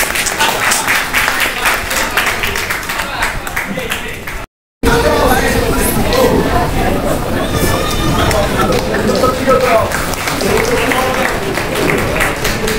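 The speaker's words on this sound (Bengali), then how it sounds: "ম্যামকে করতালির মাধ্যমে শুভেচ্ছা জানাই।" An audience at a college farewell programme for a sociology department teacher claps steadily throughout, with crowd chatter and voices mixed into the applause, briefly cut by a short silent gap.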